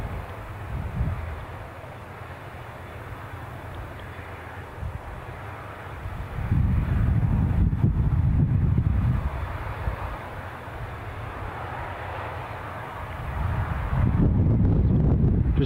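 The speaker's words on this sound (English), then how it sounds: "You could probably hear the wind picking up a little bit more now." Wind gusting across a microphone at Newcastle International Airport during plane spotting, with low rumbling buffets that swell in two strong surges and ease between them, alone without talk.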